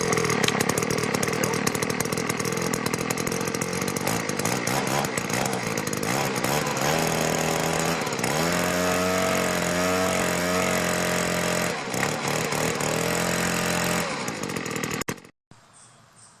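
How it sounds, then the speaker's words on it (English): A Sears Craftsman leaf blower's small two-stroke engine, pull-started after sitting for years, runs loud and close with a buzzing drone and shifting revs, then cuts off abruptly near the end. "the machine started up reasonably easy considering it's been sitting around for 4 or 5 years"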